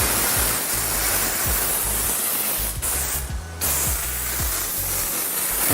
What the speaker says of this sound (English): I would pre-spray the panel like that